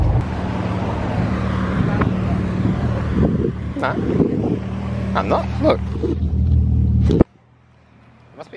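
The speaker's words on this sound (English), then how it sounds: "there's all these cool cars coming through town" Steady traffic rumble of cars passing on a town road during the Hanging Rock car show, with wind buffeting the microphone and people chatting over it, ending abruptly near the end.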